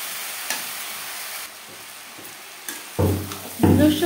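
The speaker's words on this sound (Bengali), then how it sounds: "মূলোর সাথে মাছ বেশ ভালো করে মিক্স করে দেবো।" Radish mixed with crisp-fried small fish in a pan over low to medium flame for Bengali mulo bhaja; faint quiet sizzle with a few scrapes, then two louder stirring bursts near the end, with no talking.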